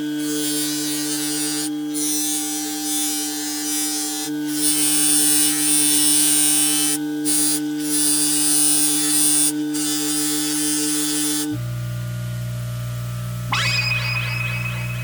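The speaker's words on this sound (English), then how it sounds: "we're gonna just go through this right now and just turn and burn and just start polishing." A motor-driven polishing wheel runs against the stainless steel cylinder of a 2026 Colt Python revolver, a loud steady whine with tonal hum that dips and rises as the part is pressed in, then shifts pitch near the end.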